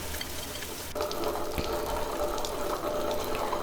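A grinder churns urad dal batter for crispy medu vada while small amounts of water are sprinkled in, giving a steady close whirring and wet churning without speech.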